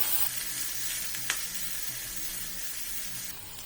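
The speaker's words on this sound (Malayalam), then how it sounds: "ഇനി നമുക്ക് രണ്ടു മൂന്ന് മിനിറ്റ് ഒന്ന് വഴറ്റി കൊടുക്കാം" Grated ginger and curry leaves sauté in a pan, giving a continuous soft sizzle and frying hiss with one brief clink midway, no talking.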